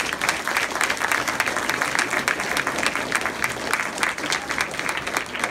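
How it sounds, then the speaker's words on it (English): Parents and staff at a charter school gathering clap together in a thick, continuous round of applause, many hands overlapping at moderate volume with slight swells and no talking. "So give yourselves a big round of applause."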